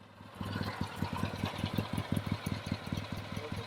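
A 1964 Triumph TR6R motorcycle engine runs steadily at idle, its regular low thumping pulses close and continuous with no one speaking.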